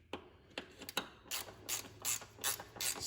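A hand ratchet clicks in quick bursts of pawl ticks while tightening a bolt on the front passenger-side ABS wheel speed sensor of a 1999 Acura CL 2.3, close and fairly quiet, with short gaps between swings.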